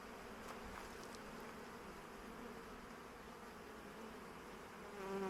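Honeybees flying around hives at an apiary in the Low Beskids on a warm March day, a steady droning hum of many insects, even and moderately faint throughout.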